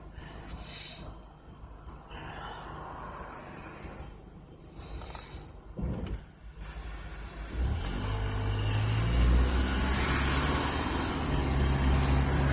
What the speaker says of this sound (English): Alright, so there's a big truck.